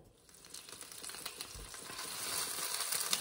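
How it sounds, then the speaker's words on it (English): Chorizo sausage fries in a pan with a faint, steady sizzle that grows gradually louder, soft crackles and spits running throughout with no talking. "put it in our pan here so that we can fry it up"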